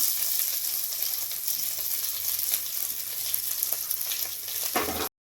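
Curry leaves, chilli, crushed garlic and shallots sizzling in hot oil, a dense, steady, close frying hiss with occasional stirring, loud and continuous until it cuts off abruptly.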